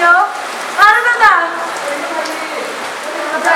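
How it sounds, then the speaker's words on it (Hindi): Heavy rain pours down in a steady, dense hiss while people talk nearby over it. "बारिश तो जोर शोर से होए है।"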